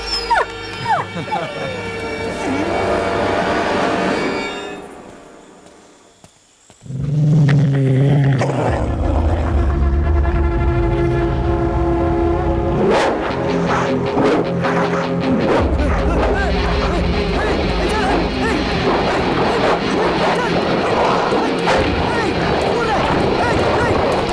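A dog barks, growls and howls in a tense attack scene from a South Indian action film, loud and close against shouting voices and music, after a brief near-silent gap.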